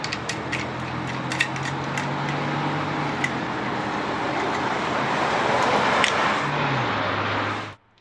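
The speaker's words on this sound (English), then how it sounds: "I eventually bought a couple stripping wheels for my grinder to really dig into the paint and speed up the process" An angle grinder fitted with a stripping wheel grinds paint off old wooden porch boards, a continuous harsh, loud whirring abrasion with a low motor hum that dips briefly near the end before the tool spins down and stops.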